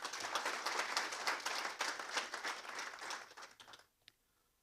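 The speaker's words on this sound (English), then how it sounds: "I kindly request you to join me in giving a warm round of applause" Audience at a research and policy symposium giving a round of applause, dense quiet clapping that fades out near the end, leaving one last clap in the stillness.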